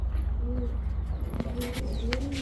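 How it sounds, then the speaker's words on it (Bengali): Jacobin pigeons, deep blue-eyed birds, coo softly a few times under a steady low hum, the calls brief and fairly near. "এখন দেখাবো জাবরা পাখি, একদম ডিপ ব্লু চোখের জাবরা পাখি"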